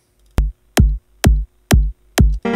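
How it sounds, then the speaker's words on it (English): An electronic dance music kick drum plays alone in a steady four-on-the-floor pattern, five punchy deep thumps evenly spaced and loud, with a short hit of another sound at the very end. "what I've got here is the kick drum"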